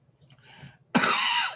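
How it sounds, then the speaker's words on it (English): A single cough from someone with a cold at an academic symposium, preceded by a faint throat sound, one sharp loud burst close to the microphone. "The cough is not due to COVID-19, just a cold."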